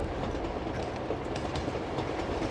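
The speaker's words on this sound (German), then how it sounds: "Ja, ich würde sagen, wir haben unseren Zug erreicht." Train running along the tracks in the video game Uncharted 2, a steady loud rumble with rhythmic clickety-clack of wheels throughout, no voices.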